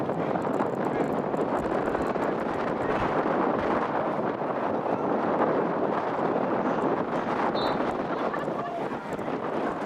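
Steady wind buffeting a microphone outdoors at a windy, mild-weather La Crosse Lightning versus Sauk Prairie Eagles game, a continuous loud rumbling roar filling the whole stretch with faint crowd or voice sounds beneath.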